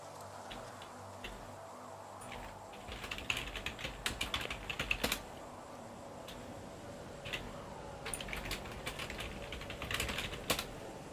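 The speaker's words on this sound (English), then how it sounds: "Like the way my keyboard sounds, it's because I type really, really firmly." Firm, heavy typing on a computer keyboard during a Satisfactory gameplay session, with bursts of sharp clicky keystrokes in uneven clusters over a low steady background hum.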